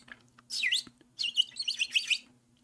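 A small bird gives two quick bursts of bright chirps, close and clear, the second a longer twittering run, over a faint steady hum.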